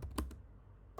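Keys on a computer keyboard are pressed in a few quick close clicks, a short burst, a pause, then one more tap, with no voices.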